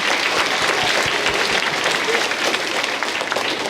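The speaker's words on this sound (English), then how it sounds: "I think that deserves a round of applause, don't you guys?" An audience at a school's 30th anniversary celebration applauds, a steady, fairly loud wash of many hands clapping that holds for several seconds.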